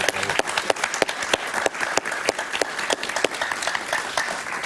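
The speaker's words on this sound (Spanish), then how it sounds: "Un aplauso para Carol Prunhuber." A studio audience applauds a guest author on a television talk show, dense clapping with sharp individual claps standing out, loud and continuous for several seconds.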